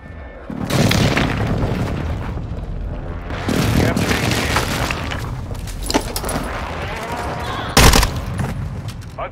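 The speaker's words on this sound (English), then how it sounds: "Friendly airstrike in the AO" Deep, rumbling airstrike explosions in a Call of Duty Modern Warfare 2 ranked Control match, several heavy booms rolling one into another with a sharp blast near the end, loud and close, with no talk over them.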